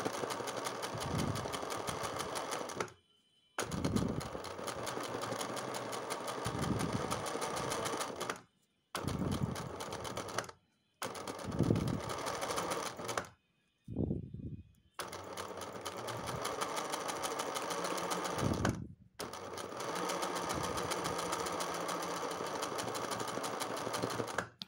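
A sewing machine stitches along a fabric edge in long, steady runs broken by brief stops, with a faint, even mechanical whir and no talk.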